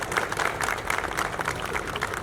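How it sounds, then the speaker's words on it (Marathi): Loud, dense applause from an audience at a film event, steady continuous clapping with crowd noise throughout, no gaps. "मी त्यांनी जोरदार टाळ्या व्हायला पाहिजे."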